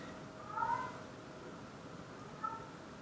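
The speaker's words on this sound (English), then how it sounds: "Is the loud cat coming through?" A loud cat meows twice, about two seconds apart, each call fairly faint and distant over a quiet room background.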